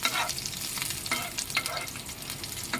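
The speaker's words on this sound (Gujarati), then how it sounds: "બધું આપણે સારી રીતે મિક્સ કરી લેવાનું." Spoon stirring fresh coriander into a semolina (suji) dhokla batter in a bowl, a soft continuous scraping and wet mixing sound, faint and close, with no voices.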